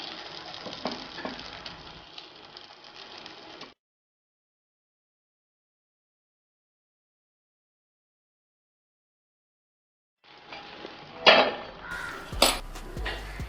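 Clinks and scrapes of a utensil against a kuzhi paniyaram pan as the dumplings are turned, first as a soft busy clatter, then after a long silence as a few louder, close metallic knocks.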